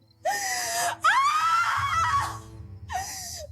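A dramatized scream effect in a biblical Exodus story about the night of death in Egypt: three anguished cries, a short shriek, a long wailing scream, then a brief final cry, loud and alone with no talk.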